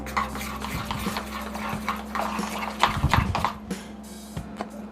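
Cornflour paste for chirote being beaten by hand in a bowl, a rapid run of soft clicking, slapping strokes close up, rising in intensity toward the middle before settling into scattered taps, with no talking.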